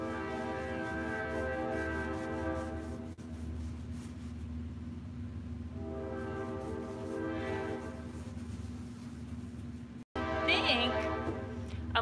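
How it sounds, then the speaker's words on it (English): A train rumbles past with a long, sustained horn blast, then fades, followed by a brief higher squeal near the end; no speech. "You hear the train?"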